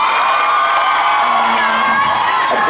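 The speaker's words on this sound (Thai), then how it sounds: "ขอเสียงปรบมือพี่เต๋าด้วยนะครับ" A large awards-show audience cheers and whoops loudly and continuously, with a dense roar of voices; some clapping may be blended into the noise.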